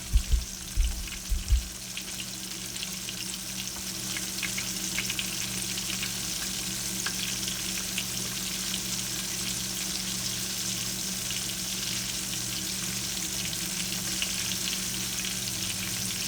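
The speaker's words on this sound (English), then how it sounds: "I have some sesame oil heating up. So I'm just going to wait for this to get hot. And I'm throwing in our aromatics." Aromatics sizzling in hot sesame oil in a pan, a steady loud fry that runs throughout after a few brief thumps and clatters at the start, with no talking.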